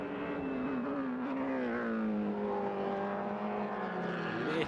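A formula race car in an MRF Challenge free practice session drives through the S-bends at a distance, its high engine note droning steadily with small pitch shifts as it works through the corners.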